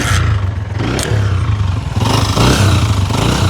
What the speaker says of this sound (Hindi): ये मोटरसाइकिल का साउंड चेक करें।